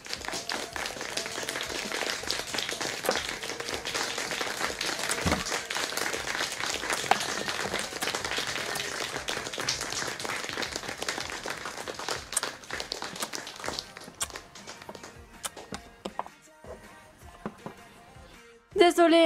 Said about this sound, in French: Faites vos applaudissements, mesdames et messieurs, à Luna, Icy et Frankie qui viennent d'arriver sur le champ.